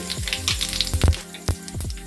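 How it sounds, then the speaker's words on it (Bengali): Whole cumin seeds crackle in hot oil left over from frying hilsa fish, a steady close sizzle broken by a few louder pops and scraping stirs. "মাছ ভাজার তেলে দিয়ে দিয়েছি গোটা জিরে"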